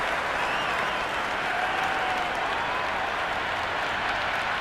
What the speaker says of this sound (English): the crowd is in full swing